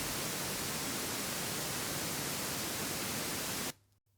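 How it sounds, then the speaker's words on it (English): Steady pink noise hisses evenly and loudly, a broad rushing static that cuts off abruptly near the end into near silence. "And there you have the pink noise."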